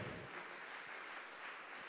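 Church congregation applauding during a sermon, a steady wash of many hands clapping at moderate volume throughout, with no voices above it.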